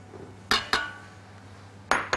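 Dry ingredients for blueberry cookies tipped into a bowl, giving two sharp clinks of utensil against the bowl, a pause, then two more knocks, close and fairly loud.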